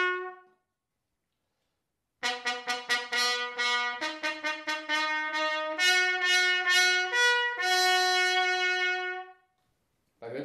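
Trumpet played with its normal open tone, sounding a bright series of short tongued notes followed by longer sustained ones, clear and close after a brief silent gap.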